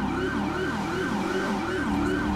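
A police siren on a 2009 Dodge Charger in the video game LSPDFR wails continuously in a fast, repeating rising and falling pattern, loud and close, with no voices.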